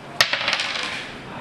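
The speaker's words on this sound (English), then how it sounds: "I have to throw the dice again?" Dice thrown in a board game, a sharp initial clack followed by several quick, fading rattles and taps as they tumble and settle, close and alone.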